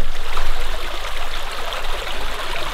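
Stream water flows steadily over a small sill of stones, making a loud, close, continuous rushing and gurgling with no break.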